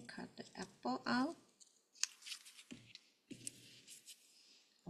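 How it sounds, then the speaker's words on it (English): Scissors cut a paper apple shape with several crisp snips and rustles at close range, following a brief stretch of speech at the start. "Follow the line, cut the apple out."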